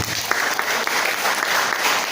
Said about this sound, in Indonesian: Tepuk tangan dulu, haleluya.